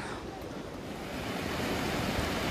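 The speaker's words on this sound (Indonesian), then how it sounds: "air dari sungai ini lumayan kencang gitu, lumayan ribut" A river rushes loudly and steadily, a dense, close roar of flowing water that builds slightly and fills the whole moment without pause.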